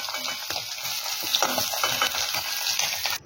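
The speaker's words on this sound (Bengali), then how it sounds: "সমস্ত পনিরটাকে বেশ হালকা টস করে ভেজে নিয়েছি।" Paneer cubes frying in oil in a kadai: a dense, steady sizzle with soft repeated stirring and tossing strokes, close and fairly loud, ending with a sharp knock.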